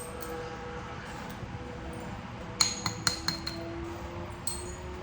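A hammerstone strikes quartzite during flintknapping of a point, four or five sharp glassy clinks in a quick cluster followed by one more a moment later, close and bright over a quiet background hum.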